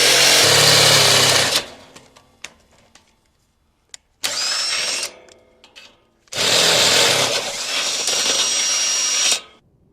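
A drill bores a 30 mm hole while fitting a Zedlock gate lock, giving three loud bursts of whirring drilling separated by quiet pauses filled with small clicks and handling noises.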